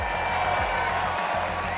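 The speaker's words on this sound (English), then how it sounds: "Give them a huge round of applause to make their way there" Sustained crowd applause fills an award ceremony at the Abu Dhabi Autonomous Racing League grand finals, a dense steady clapping with loud music pulsing underneath.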